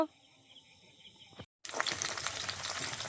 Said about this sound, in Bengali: এখানে তো পকোড়া ভাজা চলছে